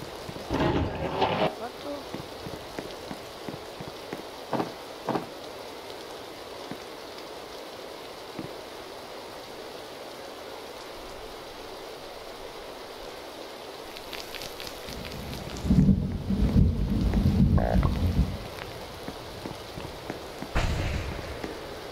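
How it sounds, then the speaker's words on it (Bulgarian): Rain begins falling in the forest survival game 99 Nights in the Forest, a steady soft hiss of drops holding throughout, with a louder crackling burst near the end and brief voice sounds at the start. "Айде, това почва да вали."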